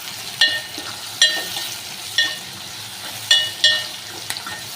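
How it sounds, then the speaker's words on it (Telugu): Onions frying in a pan for an eggplant curry, a steady sizzle broken every second or so by sharper crackling bursts, close and moderately loud, with no talk. "ఆనియన్స్ ఫ్రై అవుతాయి ఫ్రెండ్స్"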